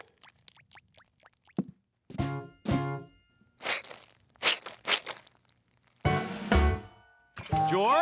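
Cartoon footsteps squishing across a soggy wet rug, a series of separate wet squelching steps that start faint and sparse, then grow louder and fuller toward the end, with no talking.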